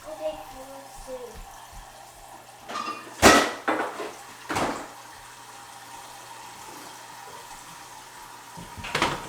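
Water runs from a kitchen tap into a pan during home canning of apricots, with a few brief rushing bursts and clanks of cookware over quiet room background and a faint voice.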